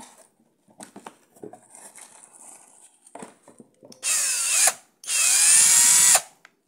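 After some light clicks and handling noises, a G Laxia 50 Nm cordless drill-driver whirs in two high-pitched bursts, the second longer, close by.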